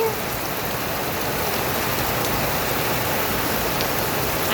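Steady, heavy rain falls continuously, a dense even patter on nearby surfaces with no voices over it.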